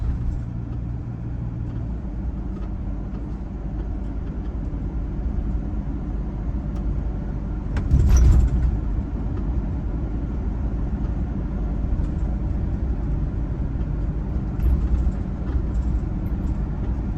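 Mercedes bus of PKS Rzeszów driving route 283, heard from inside as a steady low engine rumble and road noise, with one brief louder clunk partway through.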